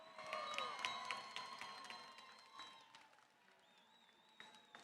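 At the FIRST Tech Challenge Championship Edison Division, an arena crowd cheers and whoops for the Blue Alliance, with shrill whistles and scattered shouts that fade gradually and come from some distance.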